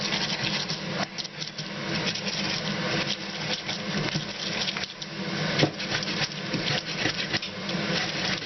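Ginger and goat liver ground by hand on a grinding stone, a steady, close scraping and rubbing that runs continuously with small rhythmic bumps and no pauses.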